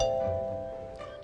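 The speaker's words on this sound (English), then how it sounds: "When someone rings the doorbell," A single electronic doorbell chime rings out as one sustained tone that slowly fades away, with no talking.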